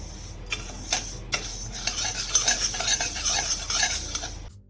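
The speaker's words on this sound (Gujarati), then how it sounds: "આ રીતે એને હલાવતા રહેવાનું થોડી થોડી વારે" A roasting mixture is stirred in a pan on slow-to-medium gas, with busy metallic scraping and clinking of a spoon against the pan over a light sizzle, close and continuous, ending abruptly.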